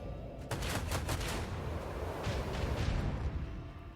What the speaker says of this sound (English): So I could just dunk these torpedoes